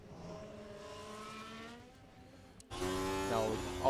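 A race car in an F1 video game drives a qualifying lap at the United States Grand Prix, its engine whining in rising, layered tones that jump sharply louder partway through as it accelerates, with faint talk underneath.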